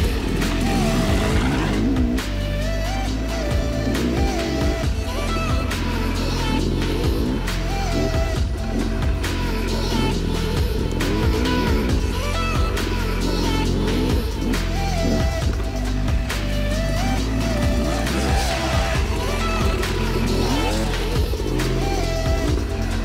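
A stock Yamaha YZ dirt bike engine revs and bogs continuously while riding flowy trails, the loud close motor rising and falling in pitch with throttle changes throughout.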